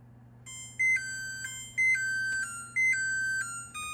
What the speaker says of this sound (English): we're waiting for the pie timer to go off